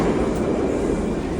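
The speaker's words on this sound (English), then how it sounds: "So I'm riding the metro for the first time here." A Moscow metro train on the move gives a continuous loud rumble and roar of wheels and carriage noise from inside the car, steady throughout with no voices.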